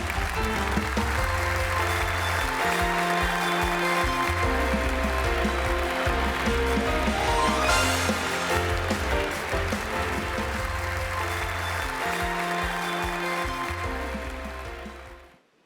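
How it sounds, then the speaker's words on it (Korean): Audience applause at a Korean company promotion ceremony held at a shipboard party, a broad steady clapping wash under loud background music, sustained before fading out at the end. "여러분 힘찬 박수를 부탁드립니다."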